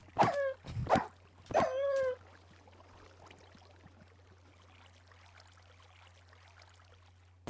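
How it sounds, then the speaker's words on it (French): A few sharp, whining barks or yelps from a dog in a video game, From the Fog, in quick succession, then fading faint background noise over a steady low hum. "C'est un chien de merde"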